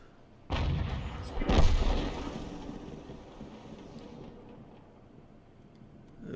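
The 105 leFH18B2 fires in World of Tanks, one loud booming artillery shot with a heavy low blast that trails off into a long rumbling decay.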